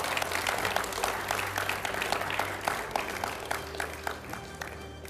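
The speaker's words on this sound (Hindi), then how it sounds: "इस सवाल के लिए मैं जोरदार तालियों के साथ स्वागत करता हूं" Applause greets debate spokespeople on a studio stage, a dense, continuous patter of clapping from the audience that thins slightly toward the end, with a faint voice underneath.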